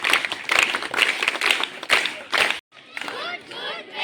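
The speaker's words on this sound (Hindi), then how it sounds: "जोरदार तालियां बच्चों के द्वारा" Children at a small village school function clap hard for a visiting teacher in a run of sharp, rhythmic bursts. A short pause follows, then voices talk.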